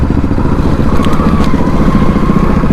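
A black Hero Splendor motorcycle being ridden, its engine a loud, close, steady throbbing drone that holds evenly for a few seconds with no talk.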